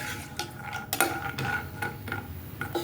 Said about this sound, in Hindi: तो मध्यम आंच में हम बादाम को यहाँ पे फ्राई करेंगे।